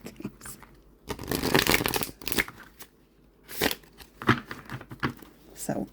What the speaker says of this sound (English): If I can do a riffle shuffle with these, anyone can do a riffle shuffle with these.